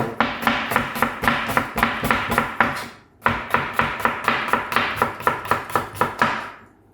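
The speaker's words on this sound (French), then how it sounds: "on émince l'oignon" An onion sliced on a cutting board, heard as quick, evenly spaced knife chops close by, a run of about a dozen strokes, a short pause, then another steady run before fading out.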